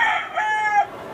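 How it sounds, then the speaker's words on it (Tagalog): A rooster crows once in a long, bright call, with a faint trace of chicken clucking behind it. "may mga manok"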